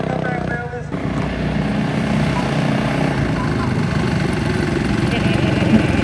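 A stick shift wagon's engine runs and revs in a continuous, loud, near rumble with people talking over it.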